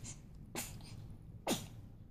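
A single quiet sneeze, preceded by a short sharp intake of breath, in an otherwise calm room.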